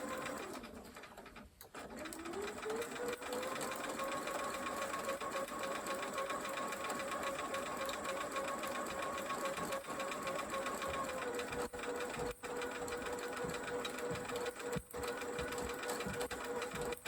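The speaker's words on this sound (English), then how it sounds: "I will keep sewing the rest of them" A sewing machine stitches quilt blocks in a long, continuous run, its steady rhythmic whir close and dominant, pausing briefly near the start and dipping slightly toward the end.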